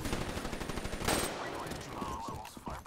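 Gunfire in a first-person shooter video game, rapid bursts of shots and a dense, loud stream of fire with game effects layered over it.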